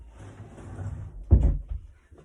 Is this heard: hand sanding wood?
no